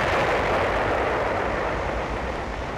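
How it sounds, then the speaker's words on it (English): Artillery bombardment of Lhasa in 1959 archival footage: a dense, continuous roar of distant booming and rumbling, loud and steady, fading slightly toward the end, with no voices. "Lhasa, under communist bombardment"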